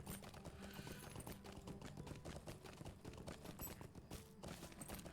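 Horse hooves clip-clop in a steady, continuous rhythm during a long ride in the Lord of the Rings Online game, moderately loud and unbroken throughout.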